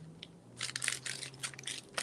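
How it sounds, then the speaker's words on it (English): An MRE hot beverage bag is handled and stuffed into place, giving close, quiet crinkling and crunching plastic rustles in short irregular bursts over a faint steady hum. "So first off, let me put the hot beverage bag in here."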